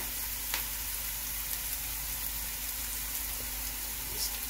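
Capsicum of three kinds frying in a pan with translucent onions, giving a soft, steady sizzle with faint crackles and occasional stirring, heard alone and fairly quiet.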